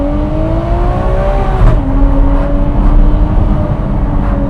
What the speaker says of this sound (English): That sounded like an F1 car.